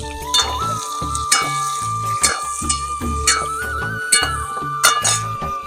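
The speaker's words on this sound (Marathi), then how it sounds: "आता तेलात परतून घेते" Sherni greens being sautéed in hot oil in a kadai, with a loud, continuous sizzle broken by repeated rhythmic clinks and scrapes of a metal spoon against the pan, close up and without speech.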